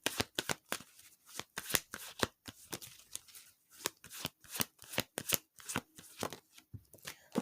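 A deck of tarot cards is riffled and shuffled close up, making rapid, rhythmic bursts of papery flicks and slaps that repeat steadily and are heard alone.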